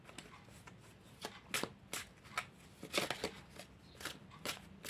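Oracle cards riffled and drawn by hand, a series of quick papery flicks and slides in irregular bursts, close and fairly soft, with no talking.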